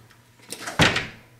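A large, heavy Dutch door in an old oak-lined museum lobby opens or closes, a creak and shuffle followed by a solid thud, close and moderately loud in a quiet room.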